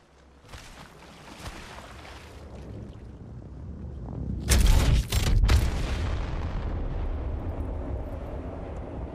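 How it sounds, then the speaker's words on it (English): A deep rumbling blast from a gravity cannon in a video game swells up and peaks in a heavy boom near the middle, followed by a sustained low roar. "Let's use that gravity cannon."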